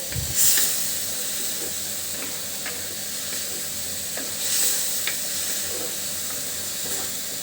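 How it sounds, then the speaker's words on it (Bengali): Tomatoes with spices fry and sizzle in a pan for a tomato fish curry, a steady hiss broken by repeated scraping stirs, close and fairly loud with no talking. "মশলার সঙ্গে টমেটোটা খুব ভালোভাবে কষিয়ে নিব।"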